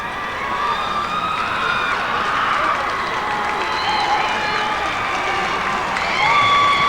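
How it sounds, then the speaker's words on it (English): Crowd at a 1992 high school state championship football game applauding and cheering, a broad sustained roar with whistles and shouts, steady and full from start to end. "Nice round of applause."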